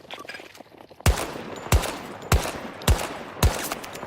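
Five sharp VCAR rifle shots in a video game ring out alone at a steady, roughly half-second rhythm, each loud crack trailing into a short decay, with only faint game ambience before the first shot.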